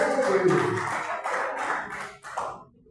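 Church congregation at a Pentecostal worship service clapping hands together, a dense rhythmic patter of many palms that fades out near the end.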